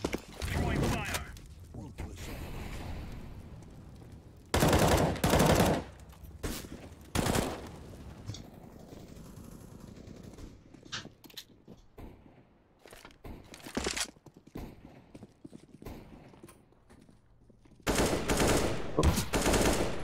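Gunfire in the shooter game CSGO during a competitive match, with sharp bursts and single shots in scattered clusters, loudest near the middle and end, while players talk over the action.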